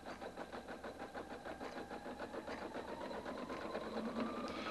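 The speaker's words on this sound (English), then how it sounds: "Touch the Start-Stop function button to begin sewing" A Husqvarna Viking Designer 1 sewing machine stitches an embroidery design in a steady, rapid mechanical whir with a fast needle rhythm, running continuously and close by with no talk.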